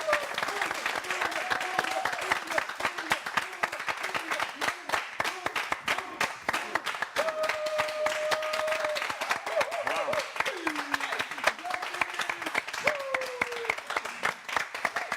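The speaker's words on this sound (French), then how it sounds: "Je vous demande d'applaudir très fort pour Moon, s'il vous plaît" An audience claps steadily for the artist Moon on a Gabonese TV show, a sustained burst of applause lasting the whole stretch, dense and even, with a few faint voices and tones drifting beneath.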